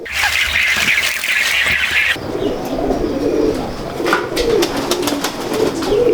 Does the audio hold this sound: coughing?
no